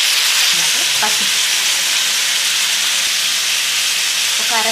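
Potato and cluster bean pieces fry in a pan with a steady, loud broadband sizzle, while a few brief stirring scrapes surface now and then.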